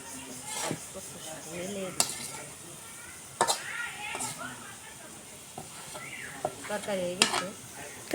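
Chopped leafy greens fry in a pan with a continuous sizzle, while a utensil stirs and clinks against the metal in sharp bursts. A voice speaks intermittently over the cooking.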